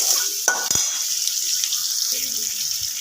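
Chicken being stirred in a frying pan gives a continuous sizzle with sharp scraping knocks early on and softer clinks later, heard close and without talking.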